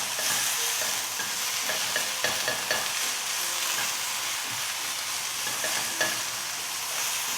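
Garlic stir-fries on the highest heat for an Asian vegetable stir-fry, giving a loud, steady sizzle broken by frequent sharp clicks and scrapes of stirring.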